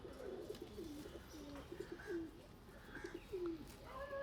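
Closed-tail pigeons in a loft coo in low rolling phrases that rise and fall unevenly, near but quiet, over a faint background hiss with no talking.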